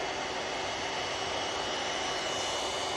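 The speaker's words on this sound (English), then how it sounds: "Aer Lingus with a flight time of 5 hours and 46 minutes coming in from New York" Aer Lingus airliner arriving at Manchester Airport from New York, a steady broadband jet engine roar holding loud and close without a break, no voices.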